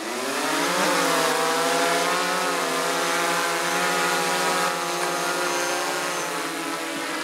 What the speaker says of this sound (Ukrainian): Квадрокоптер запускають для розвідки ворожих позицій.